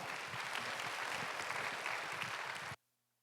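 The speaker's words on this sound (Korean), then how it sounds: "우리 하나님께 영광의 박수 올려드리겠습니다." A church congregation at a young adults' worship service gives applause to God, a dense, even burst of clapping that stops abruptly, leaving near silence.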